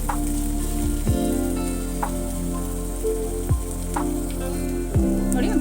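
Onions frying in oil for an egg curry give a continuous hiss under a loud, steady low hum, with a few brief gliding swoops and faint pops recurring every second or so.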